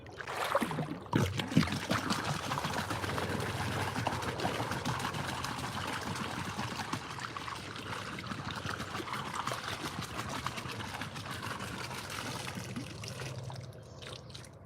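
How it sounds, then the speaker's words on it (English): Water pours and splashes steadily out of a tongue drum, a continuous trickling and sloshing rush that holds close and fairly loud for the whole stretch before thinning out at the end. "let's get all the water out of this"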